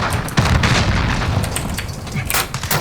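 Several heavy booming grenade blasts with broad crackling noise follow one another over a steady roar, explosions in Call of Duty: Warzone.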